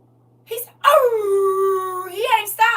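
A dog howls in one long, loud, wavering note close by, sliding down and holding before a short rise, with a brief yelp before it.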